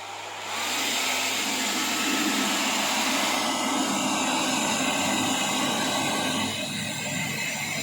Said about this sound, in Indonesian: Saya akan meningkatkan suhu menggunakan bantuan hair dryer.